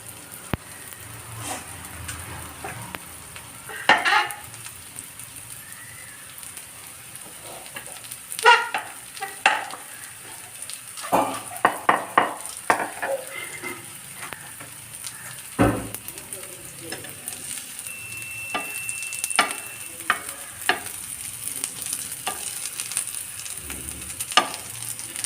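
Potato snacks fry in a pan with a soft, continuous sizzle, broken by scattered clicks and scrapes of stirring and turning, moderately quiet and close.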